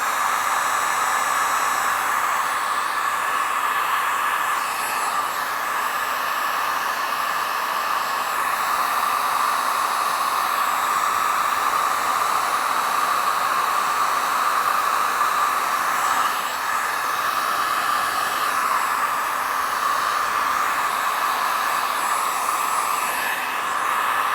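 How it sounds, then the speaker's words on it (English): A hairdryer blasts steadily at close range to dry white watercolour paint, a continuous even whooshing roar with slight fluctuations and no voices. "I'm just going to blast it with a hairdryer"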